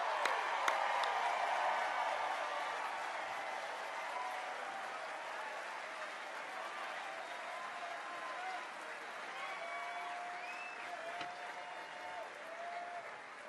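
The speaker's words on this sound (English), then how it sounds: "A round of applause, please, once again, Reverend Brown, Rabbi Singer, for that powerful message" Steady crowd applause at the San Francisco mayoral inauguration ceremony of London Breed, honoring Reverend Brown and Rabbi Singer after their message, heard fairly distant with a whistle or two and faint voices mixed in.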